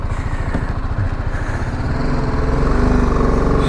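A 2018 BMW G310GS single-cylinder motorcycle rumbles close by and pulls away, its engine note rising and growing louder as it accelerates.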